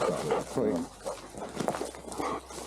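A pointing dog gives short whimpering yips close by during bird-dog training in forest terrain, mixed with a person's voice and some outdoor rustling.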